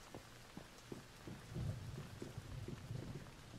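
Rain and rumbling thunder in the video game Once Human, a steady patter of rain with low thunder swelling midway, alone with no talk.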